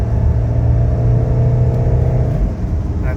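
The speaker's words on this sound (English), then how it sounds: "I'm going to try the transmission kick down" Mercedes 300CD engine revs up hard during a transmission kick down on a test drive, a loud, steady low rumble heard from inside the car.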